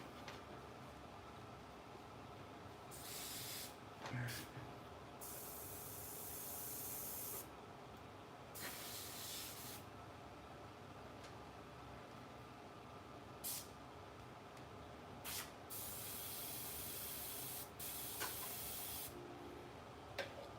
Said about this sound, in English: This airbrush is not spraying right.